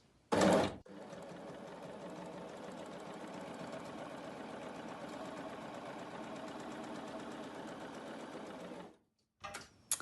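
A sewing machine stitches quilt binding with a steady, rapid mechanical whir that runs for about eight seconds. It is set off by sharp clicks at the start and near the end.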